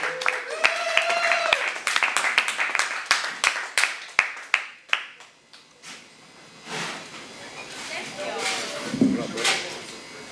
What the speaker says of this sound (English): let me get a big round of applause for our first comic coming up in the night, Mr. Royce by Choice, ladies and gentlemen.